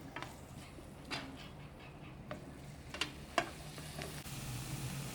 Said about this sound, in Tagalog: gisa-gisahin lang po natin hanggang mag light brown.